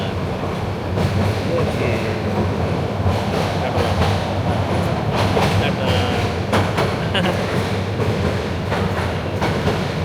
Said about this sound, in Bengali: কথা বলতে বলতে আমাদের ট্রেন এসে পৌঁছে গেল বিমানবন্দর রেল স্টেশনে